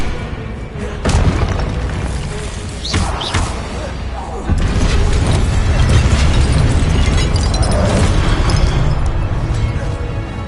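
Confringo and Incendio fire spells in Hogwarts Legacy, a video game, set off loud, booming explosions with crackling bursts, a couple of sharp blasts followed by a sustained roaring rumble of fire.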